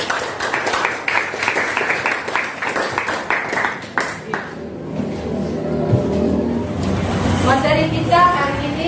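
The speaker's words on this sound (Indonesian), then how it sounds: "tepuk tangan untuk Fatia" Brief classroom applause at a school lesson, a burst of claps over the first few seconds that fades into room noise and talk.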